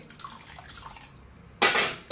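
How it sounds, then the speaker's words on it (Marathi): Clean water poured over whole idli rice set to soak with urad dal, a quiet stretch giving way to a short, loud splashing pour at the end. "याच्यात पुन्हा आपल्याला स्वच्छ पाणी घालून याला पण आपल्याला त्या उडीद डाळीबरोबर भिजत ठेवायचं आहे"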